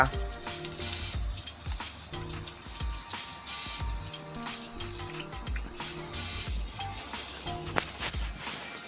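Jackfruit pieces frying with chilli powder, garam masala and sabzi masala in a pan: a steady close sizzle with scraping stirs and clinks of the spoon, and no voices.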